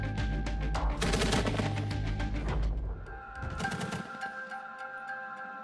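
Gunfire in a clash between Taliban fighters and the Pakistani army at the Kunar–Bajaur stretch of the Pakistan–Afghanistan border, rapid bursts of shots crackling at a distance, dense at first and then thinning.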